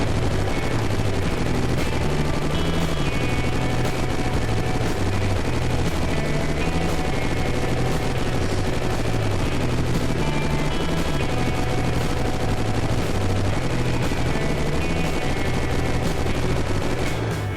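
Sustained automatic gunfire in the video game Unturned pours into NPCs in a dense, loud, unbroken stream of rapid shots that runs through the whole stretch, with no talking.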